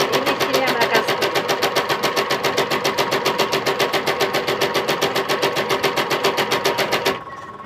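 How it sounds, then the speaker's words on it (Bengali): A sweater linking machine runs steadily with a fast, even mechanical chatter, close and loud, before stopping abruptly near the end. "এটা হলো সেই লিঙ্কিং মেশিন। এই মেশিনে আমরা কাজ করি।"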